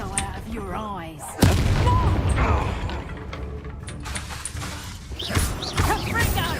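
A Reducto spell blast in the Hogwarts Legacy video game lands as a sudden loud booming impact, followed by a sustained rumbling crash, with voices talking over the game sounds before and after.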